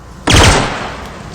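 A single loud plasma pistol shot from the sci-fi game The Outer Worlds, a sudden crackling energy blast that fades out over about a second.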